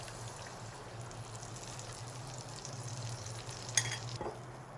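Spice paste stirred into kofta curry frying in a pan, giving a steady, even sizzle with soft scraping throughout and a brief clink near the end.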